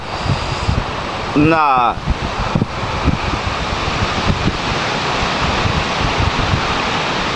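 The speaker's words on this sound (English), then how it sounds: "The wind blowing, I don't know if it's messing up the camera sound or not" Wind buffets a camera microphone outdoors, producing a constant low rumbling roar with gusty surges throughout, while someone talks over it.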